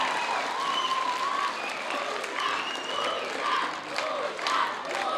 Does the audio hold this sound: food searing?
no